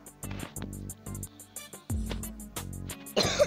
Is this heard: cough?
yes